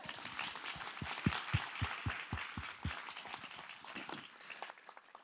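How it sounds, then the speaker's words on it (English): An audience claps for students in a quiet, distant burst of applause, with a few louder individual claps standing out before it fades. "Can we get one more round of applause for these students?"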